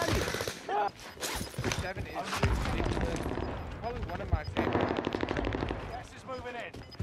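Rapid automatic gunfire from the video game Warzone Rebirth rattles in dense bursts for the whole stretch, loud and close, with players talking over the shooting.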